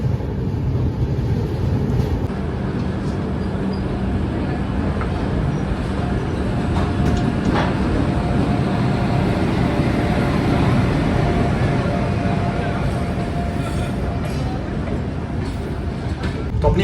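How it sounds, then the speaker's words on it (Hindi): The Malwa Express pulls away from Jhansi railway station with a steady, loud rumble of running carriages, a continuous roar of wheels and track for the whole stretch and some faint clicking. "तो अपनी मालवा एक्सप्रेस निकल चुकी है झांसी रेलवे स्टेशन से"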